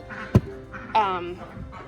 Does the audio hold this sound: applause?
no